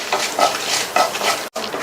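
Mustard seeds, coriander seeds and dried chillies dry-roast in a pan over medium heat, with a spoon scraping and stirring in close, rhythmic sweeps and a faint crackle underneath.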